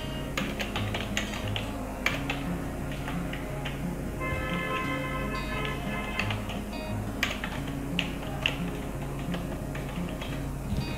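Rapid clicking on a computer keyboard while filling in a driving licence application form, with steady uneven keystrokes and a few louder taps over a low room hum.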